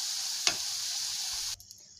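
Beetroot and carrot pieces frying in oil in a pan give a steady, close hiss of sizzling with one brief clank. The sound then cuts off abruptly to near quiet.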